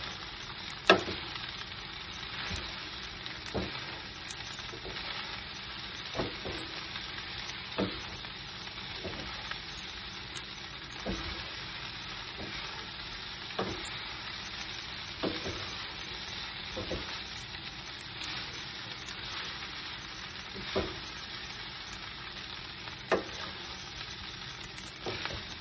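Spam egg fried rice sizzles steadily in a pan while being stirred, the continuous frying hiss broken by regular scraping clicks of the utensil against the pan.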